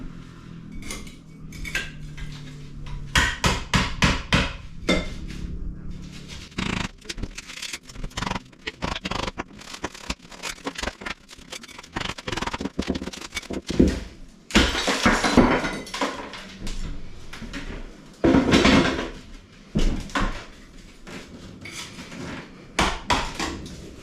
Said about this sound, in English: I just prefer one of these old scrapers with a really firm blade and a hammer.